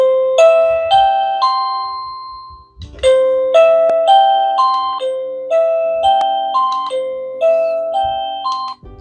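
A PLACUY wireless doorbell chime plays a bright, repeating melodic tune, clear ascending electronic tones in phrases that cycle several times, loud and close with no voices.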